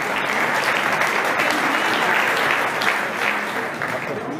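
A hall audience claps continuously for fighters being presented at a 2016 WABV boxing championship, full and even applause that tapers slightly near the end.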